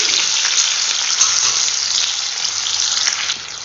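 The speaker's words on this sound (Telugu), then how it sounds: "ఇట్లనే పోపులో వేసేసుకుంటున్నాను." Paneer cubes sizzle in hot tempering oil for a paneer curry, a steady, close frying hiss that runs without pause before easing off slightly at the end.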